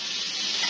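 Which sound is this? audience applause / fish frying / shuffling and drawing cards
fish frying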